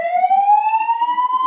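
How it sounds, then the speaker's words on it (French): An alarm siren set off by a home-automation scenario sounds as one loud, steady electronic tone rising slowly in pitch, close and with no other sound over it. "Voilà, vous entendez l'alarme."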